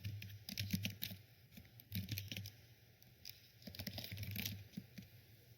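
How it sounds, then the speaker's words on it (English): Rapid clicking of computer keyboard keys, typing in quick bursts with brief pauses, close and fairly quiet against a low steady hum. "So excuse the clickety clacks of these keys, but I'm just going to insert it in here now."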